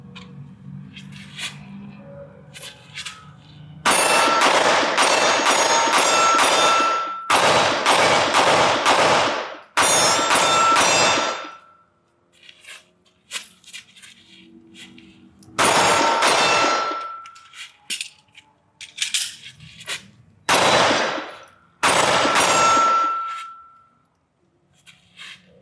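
A Walther PDP pistol fires at steel targets about 15 yards away: loud sharp shots in rapid strings, each with a bright metallic ring from the struck steel, and several strings broken by short pauses.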